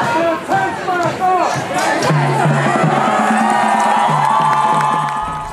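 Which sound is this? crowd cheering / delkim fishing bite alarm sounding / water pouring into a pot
crowd cheering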